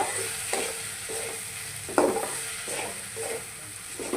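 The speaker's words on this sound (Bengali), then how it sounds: "এখন এগুলোকে ভালো করে নেড়ে চেড়ে ভাজি করে নেব।" Onions, chili and small fish fry in a pan as a utensil stirs them, giving a steady close sizzle broken by rhythmic scraping strokes about every half second, with one louder scrape midway.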